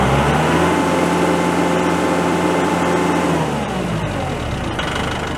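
The diesel engine of a Kubota L4060 open-station tractor is held at wide open throttle, a loud steady drone with a hum that sags slightly and settles near the end.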